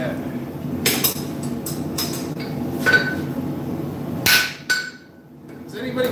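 A hammer drop-forges metal while making Viking runes, a series of sharp, loud metallic strikes at irregular intervals, close by, with ringing clinks between the blows.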